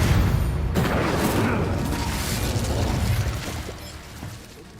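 An Incendio fire spell in the Hogwarts Legacy video game bursts with a loud, close boom that trails off into a crackling, fading rumble.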